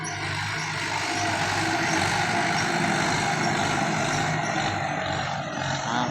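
A Kubota M9540 tractor-dozer pushing through forest in low rabbit-one gear, giving a loud, continuous, dense diesel engine roar and rumble that holds steady throughout with no pauses.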